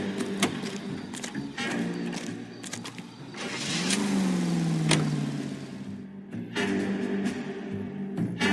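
A car engine in the video game LA Noire hums steadily while driving, swelling into a revving pitch rise and fall midway, with no one talking.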